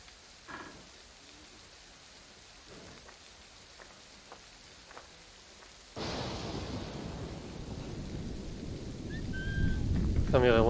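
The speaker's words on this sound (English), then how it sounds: "The storm's getting worse." A thunderstorm in the Assassin's Creed Rogue video game: steady rain under faint game sounds, swelling abruptly into a louder, denser downpour with rumbling wind that keeps building toward the end.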